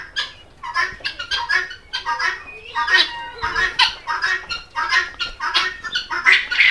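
Chickens of several colour varieties on a poultry farm cluck and squawk in dense, overlapping bursts, close and fairly loud throughout, with a voice occasionally mixed in.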